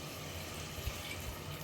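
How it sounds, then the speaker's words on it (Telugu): Water pours into a clay pot for veg kunda biryani, a steady, even rushing splash that lasts the whole moment with no voices. "దీంతో వాటర్ పోసేద్దాం ఫస్ట్."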